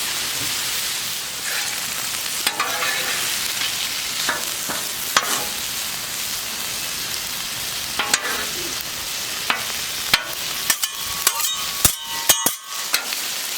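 Egg roll in a bowl, with pork, cabbage, carrot and garlic, is stir-fried in a pan to a steady loud sizzle, while a utensil scrapes and clacks against it at intervals, growing more frequent toward the end.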